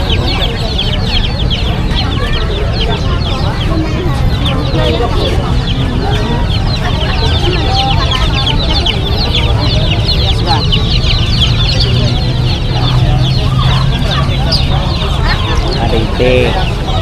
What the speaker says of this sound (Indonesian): Ayam warna.